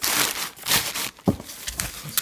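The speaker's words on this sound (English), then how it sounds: "paper and stuff it down one side" Packing paper being crumpled and stuffed down the side of a shipping box of comic books, a close, loud run of crinkling and rustling bursts with brief pauses between handfuls and a soft thump midway.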